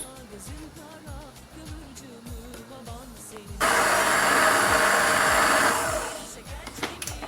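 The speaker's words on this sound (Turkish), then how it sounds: "sıvı yağımızı ve tereyağımızı pudra şekerini birlikte krema kıvamına gelinceye kadar çırpıyoruz" An electric hand mixer whirs steadily as it whips oil, butter and powdered sugar together for şekerpare dough, starting abruptly and running loud for a few seconds over a rhythmic, pulsing background.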